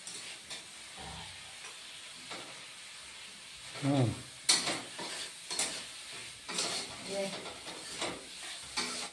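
Spices fry in hot oil in a pan with red chilli powder, sizzling and hissing, with stirring scrapes and a few louder bursts of crackling partway through.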